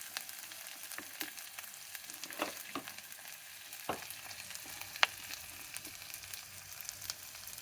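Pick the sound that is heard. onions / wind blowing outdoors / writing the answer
onions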